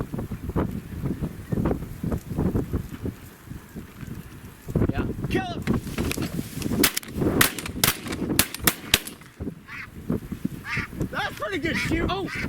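Shotgun shots ring out at snow geese during a goose hunt, as sharp, close reports amid a loud, constant chorus of honking geese. Several shots come in quick succession midway through, and people's voices are heard among the flock.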